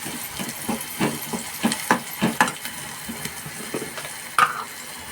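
Tomato and goda masala sizzle in a pan for dal palak while a spoon stirs, giving a run of rhythmic scraping strokes over a steady frying hiss, close and moderately loud.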